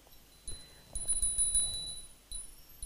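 A small hand bell rung during Hindu deity worship gives bright, sustained high ringing in a few quick shake bursts, close and clear.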